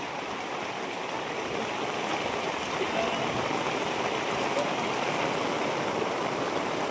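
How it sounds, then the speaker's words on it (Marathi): Heavy rain pours onto a muddy farm field in a dense, steady hiss that holds evenly throughout, moderately distant with no voices. "पाऊस पण भरपूर लागतोय"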